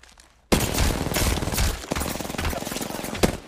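A loud, rapid volley of gunfire erupts after a brief quiet start in the video game Apex Legends, with one sharper shot standing out near the end.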